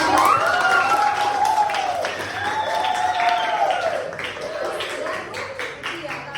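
A classroom full of students applauds a student with steady, close clapping that stays busy throughout. Sing-song voices chant over the clapping.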